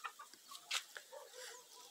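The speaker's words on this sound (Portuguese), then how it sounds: "Eu vou estar prendendo elas junto com os frangos." Chickens and young roosters clucking on a farm, several short scattered clucks and squawks at varying distances, fairly faint, with no speech over them.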